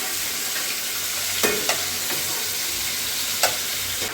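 Prawns frying in ghee for a restaurant-style ghee roast give a steady close sizzle, with a few sharp stirring scrapes against the pan; no one speaks.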